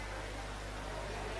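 An electric fan runs indoors, producing a steady, even broadband whoosh that holds unchanged throughout the brief moment, with no voices or other sounds on top.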